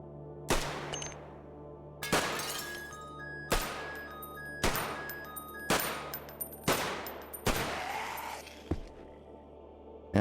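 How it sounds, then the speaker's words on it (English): Gunfire in the video game Cataclysm: The Last Generation: about eight sharp shots at irregular intervals of a second or two, each with a ringing tail, fairly quiet and without talk. "And so will the gunfire, obviously."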